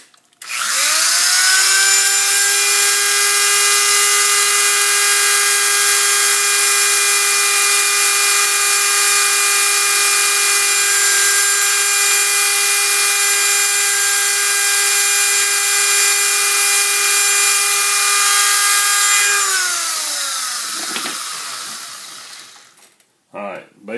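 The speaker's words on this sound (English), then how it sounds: "Any of these little high-speed engraving tools you can use." A high-speed engraving tool grooving a fishing lure body, a loud, steady high-pitched whine held for about twenty seconds before spinning down.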